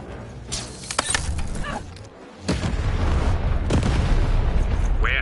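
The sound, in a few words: cannon firing in the video game Lost in Random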